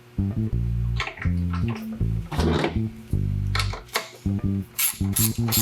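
A hand tool works the last sensor bolt on a 2022 Toyota Tacoma during mounting of a pan and rails, giving repeated short mechanical bursts in an uneven rhythm, close and fairly loud.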